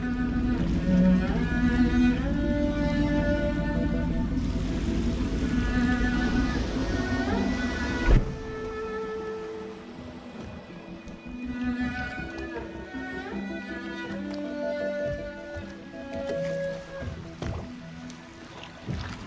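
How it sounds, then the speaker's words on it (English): A boat piloted across water in the video game Dishonored, with a continuous engine-like drone and water wash under layered musical tones, steady and fairly loud before the sound thins out and shifts partway through. "I should concentrate on piloting this boat."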